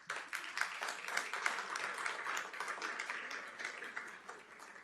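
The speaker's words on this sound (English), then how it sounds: "Give them a round of applause." Audience at a city commission meeting applauds student ambassadors, a dense, continuous round of clapping from many people that holds steady throughout.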